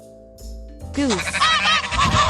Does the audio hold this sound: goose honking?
yes